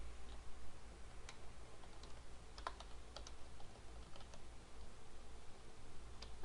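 Quiet, irregular clicking of keys on a computer keyboard as data is entered into a form, soft and close over a low steady hum.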